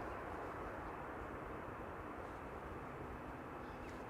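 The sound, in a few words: airliner landing at Amsterdam Schiphol, thrust reversers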